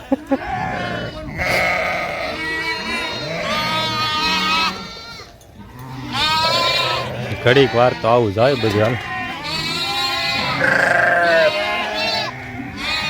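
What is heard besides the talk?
goats and sheep bleating in a village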